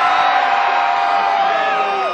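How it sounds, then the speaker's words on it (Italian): Concert crowd at a New Year's Eve show in Salerno, a dense, loud roar of shouting, whoops and cheering held steady throughout, with no single voice standing out. "Mi fate sentire un urlo a Tiziano che è qua dietro?"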